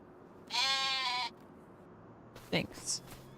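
A sheep bleats loudly and in a drawn-out tone inside the farming game Farming Simulator 25. A short voiced sound and some quieter noise come after it.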